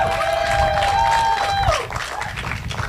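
An audience at a joint press conference applauds, a dense patter of clapping with some cheering and a sustained whistle-like tone, fading toward the end.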